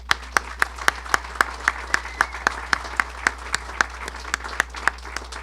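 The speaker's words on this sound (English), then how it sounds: "every name I've mentioned deserves one more round of applause" Sharp, evenly spaced claps ring out, a single steady rhythm of hand claps rather than a full crowd, moderately loud.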